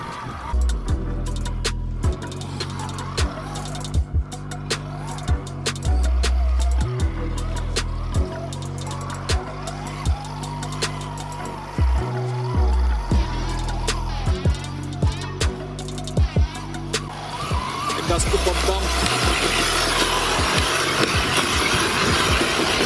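A radio-controlled Toyota Land Cruiser 80 scale model car drives over rough ground, its small electric motor whining in repeated bursts and stops as it climbs and bumps along.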